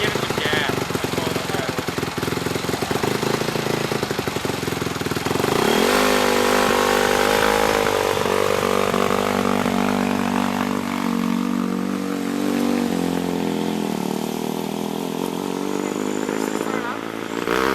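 Formula SAE car's engine revving loudly as throttle is applied during regen and boost testing, a rough buzzing roar that steps up in pitch and then holds steady, with people talking over it.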